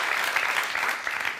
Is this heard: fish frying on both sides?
no